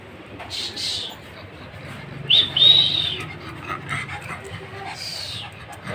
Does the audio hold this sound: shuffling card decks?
no